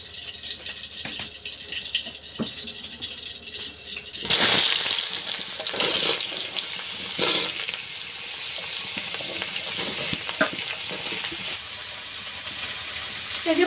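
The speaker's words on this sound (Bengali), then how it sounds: "তো প্রথমে তেল দিয়ে দিচ্ছি কড়াইতে" Oil goes into a hot wok for a home-cooked Bengali fried vegetable dish, bursting into a loud sizzle partway through, followed by steady frying with stirring clatter and occasional scraping.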